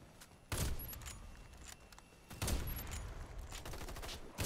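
Gunfire bursts in the Warface video game, two loud broadband volleys of shooting at about half a second and again at two and a half seconds, with sustained noisy fire continuing between them, no talk.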